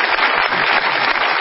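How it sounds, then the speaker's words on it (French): Applause from the audience at the opening ceremony of a festival in Vernon, Normandy: a dense, steady clatter of many hands clapping, loud and close, with no talk over it. "Je vous demande d'applaudir le Festival de Vernon"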